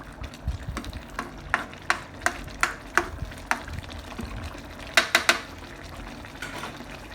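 Thai green chicken curry simmering in a pot and being stirred, with a steady bubbling, frying-like sizzle under a run of sharp, evenly spaced scrapes and knocks of the stirring utensil, close and fairly loud.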